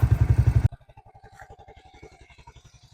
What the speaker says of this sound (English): It seems to be running very smooth.